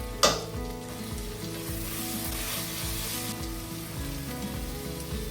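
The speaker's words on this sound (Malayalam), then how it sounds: "ഒന്നര ടീസ്പൂൺ ജിഞ്ചർ ഗാർലിക് പേസ്റ്റ് ഇട്ട് ഗ്രീൻ പീസ് വറുക്കി." Green peas sizzle and fry in a pan with ginger garlic paste, a steady close crackle with a sharp clatter at the start and repeated scraping stirs throughout, no talking.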